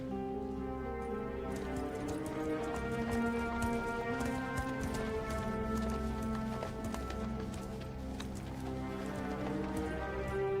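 Horse hooves in a western film scene, a steady run of clip-clopping beats under a sustained musical score, moderately close and continuous throughout.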